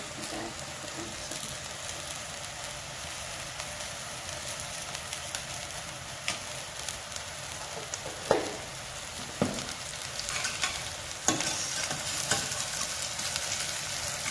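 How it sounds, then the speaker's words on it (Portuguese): Onion fries in oil with a little margarine in a pan while lasagna's white sauce is made, giving a soft, continuous sizzle with occasional stirring clinks and scrapes, fairly quiet throughout. "Vou deixar só fritando o óleo e agora eu pôr um pouquinho de margarina."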